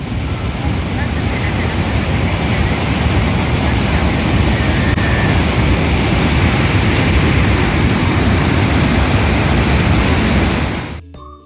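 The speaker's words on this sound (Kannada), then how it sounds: "ಜಲಪಾತದ ಸುಂದರ ಆರ್ಭಟವನ್ನು ಕೇಳೋಣ" Niagara Falls roars at night as a dense, unbroken wall of loud rushing water, steady throughout, then drops away abruptly at the very end.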